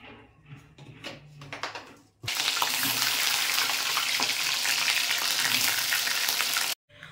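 Potatoes fry in mustard oil with a little ghee, a loud, steady hiss and crackle filling the pan after a quieter stretch of kitchen clatter, then cutting off abruptly.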